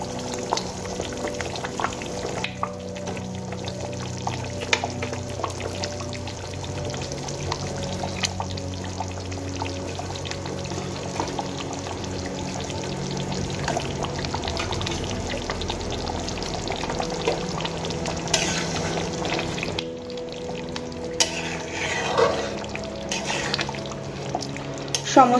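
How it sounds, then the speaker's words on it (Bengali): Fried katla fish pieces go into a simmering curry gravy in a home kitchen, with a steady bubbling sizzle running throughout and intermittent stirring and placement clatter, but no voice. "ভেজে রাখা কাতলা মাছগুলো আমি ঝোলের মধ্যে দিয়ে দেব।"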